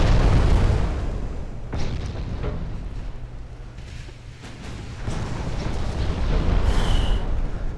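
Battleship 8-inch secondary guns hitting targets in a naval video game produce a rolling, heavy rumble of overlapping booms that dips briefly and then swells again, with no voices.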